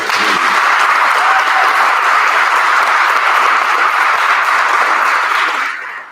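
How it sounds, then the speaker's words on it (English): Loud, dense applause from an audience at an elementary school candidate forum for two principal candidates, sustained evenly for about six seconds before fading slightly at the end. "can we have a round of applause for both candidates, please?"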